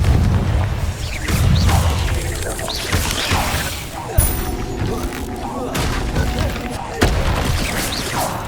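Confringo blasting spell explosions in the video game Hogwarts Legacy, several loud booming blasts and crashes, each followed by a brief tail, layered over busy combat sounds.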